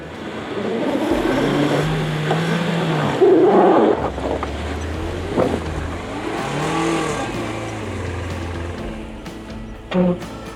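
A safari vehicle stuck in a deep mud hole in the Okavango Delta revs its engine in loud surging bursts that rise and fall, with a sharp knock near the end.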